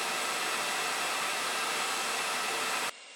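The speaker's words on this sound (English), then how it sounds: "to give you an idea on how loud this hairdryer is, I'm going to switch to the camera's built-in microphone." A hairdryer runs loudly and steadily as a close, continuous broadband roar, then cuts off abruptly near the end, leaving only faint background hiss.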